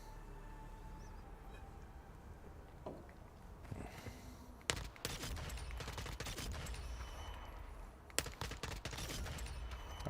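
Gunfire at a firing range in a PS5 video game, a few sharp bursts of shots with quiet stretches between, heard over faint background game sound.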